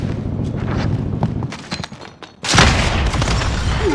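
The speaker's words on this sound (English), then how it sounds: "RPG right past him" A rocket-propelled grenade streaks past a player in a competitive shooter match, loud and close, with a rushing burst and heavy boom that swells suddenly midway and then sustains amid dense gunfire and game noise.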